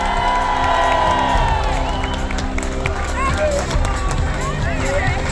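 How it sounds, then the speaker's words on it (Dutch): A crowd at a cyclo-cross championship podium in Lokeren, Belgium cheers, shouts and applauds loudly and continuously, a dense roar of voices with whoops and high calls rising above the din. "Een oorverdovend applaus voor Laurens Zwick."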